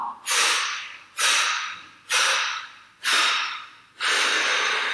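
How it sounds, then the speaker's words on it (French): Five forceful breaths blown out one after another at an even pace during a breathing exercise, each a loud, close, airy whoosh that swells and fades, with short pauses between them. "Et puis vous allez souffler en allant vers l'avant"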